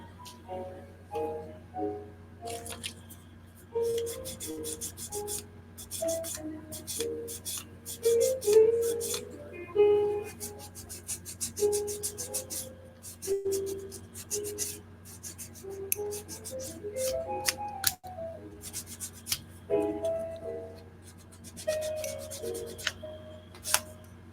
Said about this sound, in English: I'm actually sanding.